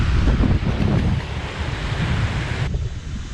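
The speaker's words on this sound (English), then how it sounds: "This is just a wind doing this right now." Strong wind roars steadily over the Mississippi River ahead of a hurricane, buffeting the microphone with loud, continuous rumbling gusts.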